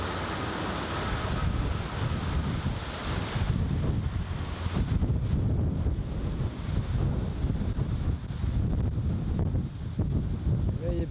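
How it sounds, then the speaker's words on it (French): Wind blows outdoors in hot weather in Miami, buffeting the microphone with a steady low roar that strengthens midway and stays loud throughout. "heureusement il y a du vent"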